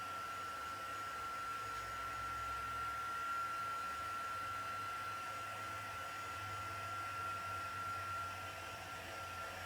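A heat dryer blows steadily over a wet watercolour wash on a Christmas card, a continuous airy whir with a faint high whine, fairly quiet and alone with no talking.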